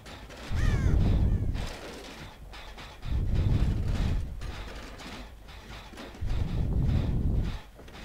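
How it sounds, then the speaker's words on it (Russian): Loud crow caws from the video game Dead by Daylight, three long harsh bursts separated by short gaps, close and prominent with game ambience between them. "Да что у тебя тупая ворона"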